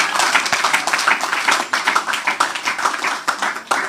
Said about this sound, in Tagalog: Isang pinakamalakas na palakpak kay Lord